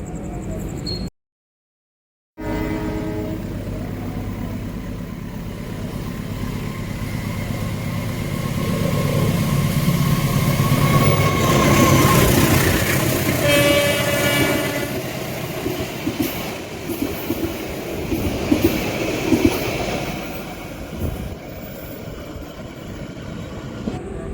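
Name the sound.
Tawang Alun passenger train passing through Grati station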